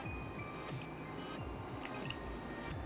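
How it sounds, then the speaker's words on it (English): A liquid mixture is poured over ground beef for a keto taco pie, giving soft, wet dripping and squishing sounds heard up close, fairly quiet, with a few faint clicks. "And now we can pour this on the ground beef."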